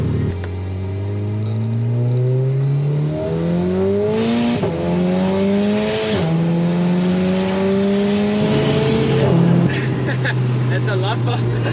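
A tuned 300+ kW VW Golf 7 R fitted with a screamer pipe accelerates hard, its loud raspy engine climbing through the gears in rising sweeps with brief dips at each shift, heard close from inside the car.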